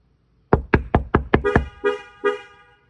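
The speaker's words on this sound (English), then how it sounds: "So the horn chirps at you if it senses low impact." A 2022-or-later Toyota Tundra with a Protect-X security sensor answers a knock on the truck with a rapid series of six sharp, loud horn chirps, followed by two slower, longer toots. The chirps are close and clear, with no talk.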